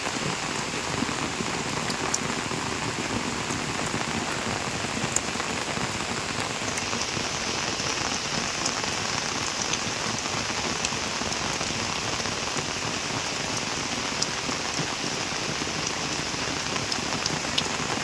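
Heavy rain pours down steadily over flooded garden plantations and a road during a downpour, producing a dense, unbroken close hiss of drops on surfaces, with no voices.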